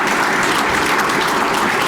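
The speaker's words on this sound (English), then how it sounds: "Give her a round of applause" Applause from a hall-of-fame banquet audience for a university athletics director, a dense, steady wash of clapping at close range, continuous and loud, with no voices rising above it.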